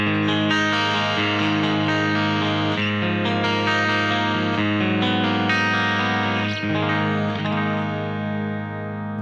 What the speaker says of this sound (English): let's check out some clean tones with the Piezo pickup.